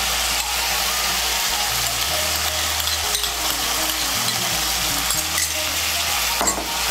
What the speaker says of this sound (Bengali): চারমগজ বাটা আর কাজু বাদাম বাটাটাকে তেলের সঙ্গে মিশিয়ে নিয়ে এটাকে একটু ভেজে নেব।